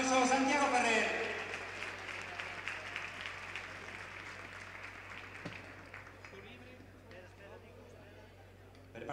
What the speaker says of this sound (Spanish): un fuerte aplauso, Santiago Ferrer.